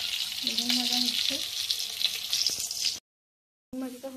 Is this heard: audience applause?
no